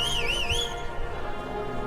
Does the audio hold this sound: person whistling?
yes